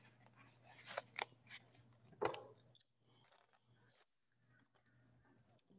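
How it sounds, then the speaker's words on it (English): Scissors snip through paper strips, cutting them in half for a snowman paper chain: a few crisp close cuts in quick succession, then quieter handling of the paper over a low steady hum. "So I'm just gonna cut them in half."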